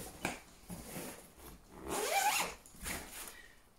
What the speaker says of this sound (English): This pocket has got a secret zip in it.